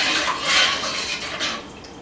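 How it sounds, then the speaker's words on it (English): Water being stirred into roast seasoning in a cooking pot, a steady close sloshing and scraping swirl lasting about two seconds with small surges, no voices. "You just see if I stir this around a little bit."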